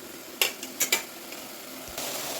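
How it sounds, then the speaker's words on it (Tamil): Eggplant sautéing in hot oil in a pan, a soft steady sizzle broken by a few sharp clinks and scrapes of a utensil stirring, fairly close, with no talking. "இப்போ எண்ணெயில் வதக்கிறது மட்டும்."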